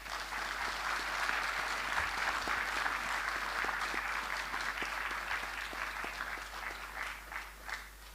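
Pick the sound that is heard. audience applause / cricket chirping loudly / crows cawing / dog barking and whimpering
audience applause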